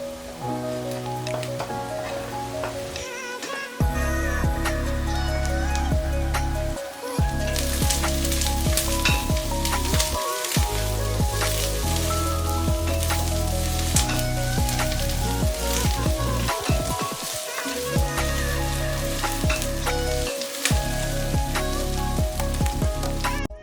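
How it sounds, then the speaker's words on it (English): Minced garlic, ginger and cilantro stems sautéing in a pan for lentil curry, a loud steady crackling sizzle throughout, close up, with occasional spoon scrapes and brief pauses. "add your minced garlic and ginger and cilantro stems. Saute for about 2 minutes."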